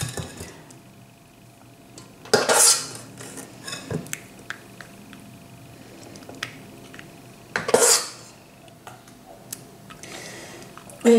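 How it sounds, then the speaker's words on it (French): Spoon and glassware clinks as a dessert mixture is spooned into a small glass verrine, two sharp bright clatters a few seconds apart with lighter taps between, fairly close in a quiet kitchen. "Je vais prendre une petite verrine et je vais la remplir avec le mélange qu'on vient de préparer."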